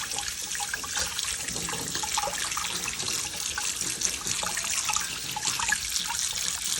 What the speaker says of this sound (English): And then I'm just going to rinse off the greens.